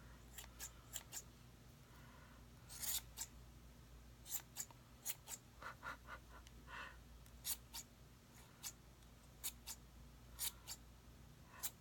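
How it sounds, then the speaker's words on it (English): Scissors trim a yarn pom-pom in quick, crisp snips, some in pairs, at close range over a low steady background hum. "now I'm going to have to cut some more"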